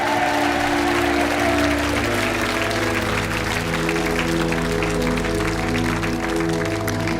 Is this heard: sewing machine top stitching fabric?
no